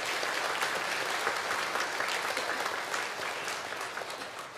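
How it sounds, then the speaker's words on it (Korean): A church congregation claps steadily for a child who won an award in a national Bible quiz, a dense even wash of hands that softens slightly toward the end. "격려와 칭찬의 박수 하도록"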